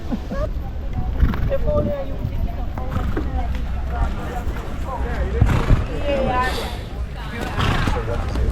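Polo horses at a high-end match in Jamaica move about amid a crowd, with faint hoof clops and snorts mixed under continuous nearby chatter and calls from people talking.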